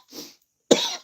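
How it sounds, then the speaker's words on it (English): A person getting over a cold coughs twice, close to the microphone: a soft, breathy cough followed after a short pause by a sharper, louder one. "I'm getting over a cold, so I may cough a little bit"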